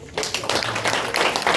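Audience applause in a church training session in Juarez, Chihuahua, broad steady clapping that begins after a brief quiet moment and fills the short stretch at even loudness.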